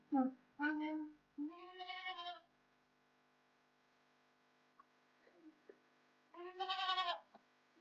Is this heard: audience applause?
no